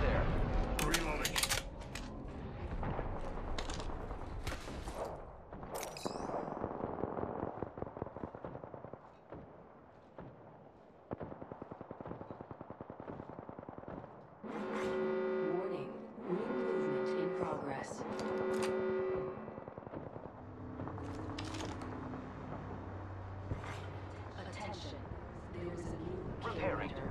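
Gunfire from the battle royale video game Apex Legends, with sharp shots clustered near the start and scattered bursts later, under game music, announcer voice lines and talk.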